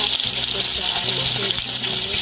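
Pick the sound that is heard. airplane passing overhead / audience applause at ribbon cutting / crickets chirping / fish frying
fish frying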